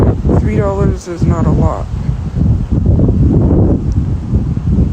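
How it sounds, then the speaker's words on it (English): Gusty wind buffets the microphone with a low, steady rumble while a person talks close by. "It is very windy."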